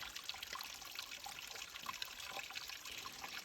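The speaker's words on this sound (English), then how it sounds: "Filling our water purifier with this handy little dandy." Stream water trickling and splashing into a water purifier during a backcountry Idaho elk hunt, a soft continuous dribble heard alone at low volume.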